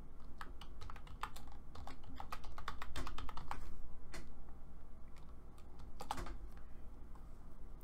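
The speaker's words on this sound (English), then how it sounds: "So let's type that in and run that." Rapid, irregular keystrokes on a computer keyboard, close and clear, typed in quick bursts with short pauses between them.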